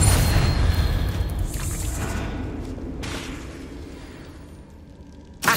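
A Confringo blasting spell explodes in Hogwarts Legacy with a loud, booming blast. It fades into a long, rumbling tail with a brief whoosh, and another sharp burst lands right at the end.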